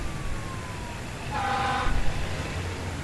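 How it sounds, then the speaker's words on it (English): Emergency sirens wail in a SimCity city scene, moderately loud over a steady low rumble of traffic noise. "Well, so many sirens."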